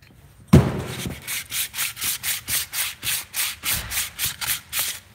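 Material being worked off a Predator 212 small-engine cylinder head with steady back-and-forth rubbing strokes, about a dozen evenly paced abrasive passes after a sharp initial knock, close and fairly loud with no talking.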